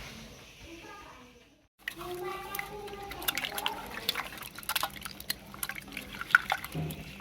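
A rice water and garlic paste mixture is poured steadily into a container, splashing and dripping close up after a brief pause; a voice speaks early on.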